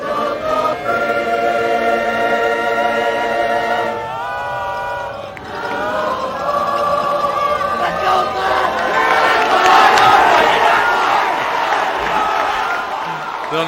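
A high school football crowd at a Thanksgiving game between North Andover and Andover. Choral singing of the national anthem fades out, then a loud, sustained roar of cheering and whooping swells from the stands and carries on.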